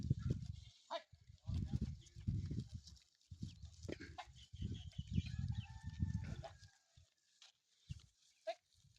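Goats and sheep grazing bleat repeatedly at close range, short bursts of calls from several animals with brief pauses between them.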